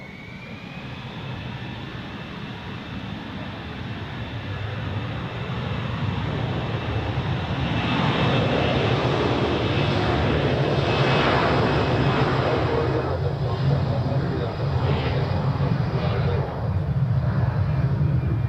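A jet airliner taxis toward runway 28 at Zurich Airport, its engines a loud continuous roar that swells and holds steady at a distance for the whole stretch.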